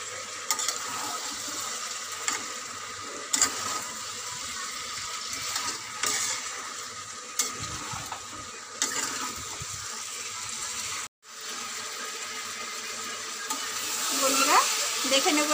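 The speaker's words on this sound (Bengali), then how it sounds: "তো ভালো করে এটা কষিয়ে নেব মশলার সঙ্গে।" Fried potatoes and meat cook with spices in a pan, giving a steady, close sizzling hiss that runs almost without a break, along with occasional stirring scrapes and one brief gap.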